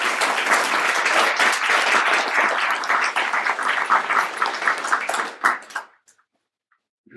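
Sustained audience applause at a Ruby user group meetup in Berlin, dense steady clapping from a room of listeners that runs about six seconds and then cuts off into near silence.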